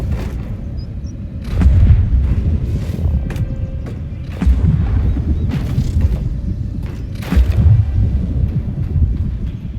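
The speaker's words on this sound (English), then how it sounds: "use my ensnaring blast to blow that up" Magic blasts from the video game Eternal Strands, an ensnaring blast spell: three deep booming explosions with low rumbling tails, loud and close, at roughly two to three second intervals over a steady low background rumble.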